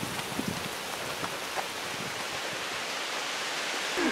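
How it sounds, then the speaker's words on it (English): Heavy rain pours down in the woods near a pond, a dense, steady hiss of drops striking leaves and ground that stays even and close throughout, with no voices. "Listen to that rain, man! We're gonna get soaked!"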